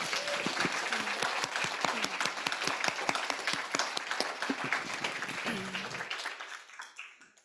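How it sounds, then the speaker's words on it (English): An audience at a symposium applauds in a dense, steady round of clapping that holds for about six seconds, then fades out and stops. "I'm going to ask for one more round of applause."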